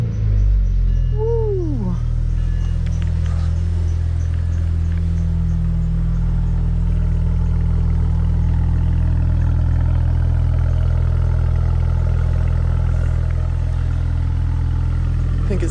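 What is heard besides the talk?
BMW 335i engine start-up and idle with aftermarket exhaust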